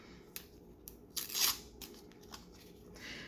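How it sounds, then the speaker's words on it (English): Paper wrapping is torn and peeled off an oracle card deck, soft crinkling and ripping in scattered short bursts with one louder tear in the middle, close and quiet. "All right, so we're going to take off the paper."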